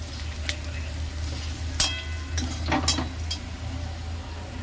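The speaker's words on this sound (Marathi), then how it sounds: "कांदा कांदा ठेवला परतवायला" Chopped onion sautés in a pan while jackfruit curry is cooked in the Konkani style at home. A steady low sizzle runs throughout, broken by a few sharp clinks and scrapes of a spoon against the pan.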